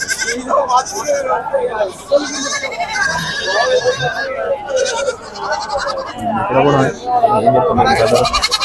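Goats bleat repeatedly amid a busy crowd at the Pebbair livestock market, with people talking and chattering all around at close range.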